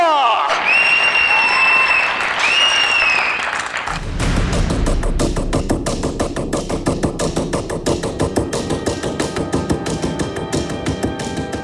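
An audience applauds to welcome a father-daughter aerial stunt duo at a staged show. A few seconds of voices and tones give way to dense, sustained clapping that fills the rest of the clip.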